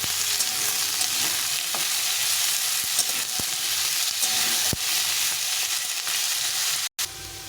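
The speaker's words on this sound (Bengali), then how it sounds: "দিয়ে আলু আর পেঁয়াজটাকে একটু ভেজে দেবো" Potatoes and onions fry in oil for a duck egg curry, giving a steady, close sizzle with scattered stirring clicks, broken by a brief cutout near the end.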